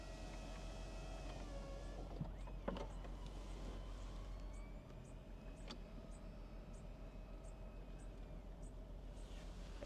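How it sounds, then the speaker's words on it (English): A 2025 BMW Z4 M40i roadster lowers its soft top with a quiet, steady electric motor hum inside the car, broken by a couple of faint mechanical clicks and a shift in pitch partway through. "so of course the top is going down"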